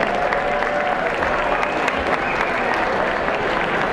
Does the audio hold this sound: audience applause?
yes